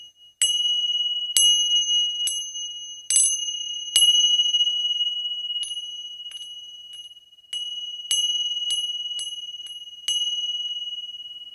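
A small bell rings repeatedly during a meditation session, clear bright strikes with long sustained ringing tones that decay slowly, struck at irregular intervals in an otherwise silent room.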